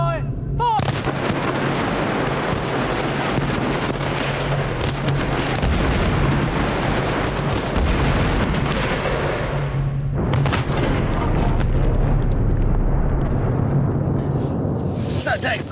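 Naval guns aboard the aircraft carrier HMS Illustrious fire in a long, loud barrage of heavy booms and continuous rumbling blasts, with shouted commands and voices heard over the gunfire.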